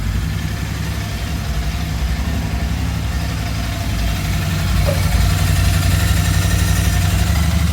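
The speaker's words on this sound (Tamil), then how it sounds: "இப்போ நான் வண்டி ஸ்டார்ட் பண்ணிட்டேன்." A Royal Enfield Interceptor 650 motorcycle fitted with a performance air filter idles steadily nearby, a low, even rumble that grows slightly louder in its second half.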